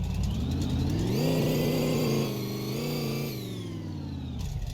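Car engine revving on a dyno in first gear, a loud sustained roar that climbs in pitch, holds a wavering plateau, then winds back down, close and alone without talk.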